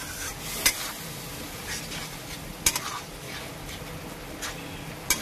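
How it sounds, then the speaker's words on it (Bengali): Spice paste for a Bengali pangas fish curry is stirred and sautéed in a pan with a little water, giving a soft continuous sizzle broken by a few sharp spatula scrapes against the metal. "এবার আমি মশলাটাকে ভালো করে কষিয়ে নিই।"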